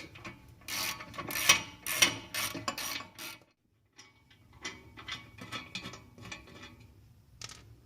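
A ratchet wrench loosens two 17 mm exhaust bolts under a Nissan Altima or Maxima, giving bursts of quick clicking pawl ratchets that pause briefly, then resume in a lighter, steady series of clicks close to the microphone.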